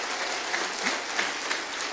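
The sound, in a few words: church congregation applause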